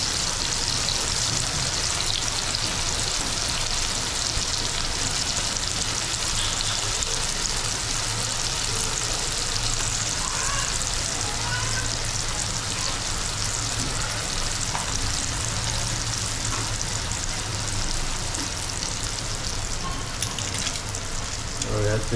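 Spices frying in hot oil for a Konkani crab curry, a dense steady sizzle that stays loud and unbroken throughout.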